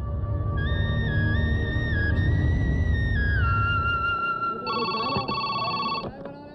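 A telephone rings in a rapid electronic trill near the end, after a stretch of background music, and is followed by a brief clatter.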